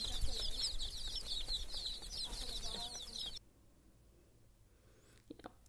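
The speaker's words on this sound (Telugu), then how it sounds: "చిన్న చిన్న కోడి పిల్లలు చూడండి ఎంత బాగున్నాయో." Small chicks in a garden cheep rapidly in a quick, high-pitched twittering run over low background rustle, then fall silent, leaving a quiet stretch with a faint brief sound near the end.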